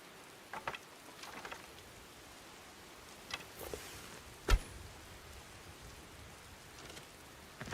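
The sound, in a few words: rain falling in the video game Skyblivion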